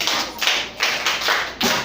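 A small group of children in a classroom clapping together in a rhythmic pattern, loud and close, several evenly spaced bursts with no talk.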